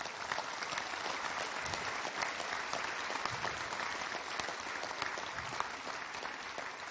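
Sustained, dense applause from an audience at a speech in Loir-et-Cher, steady crackling clapping at moderate distance lasting throughout, with no voices over it.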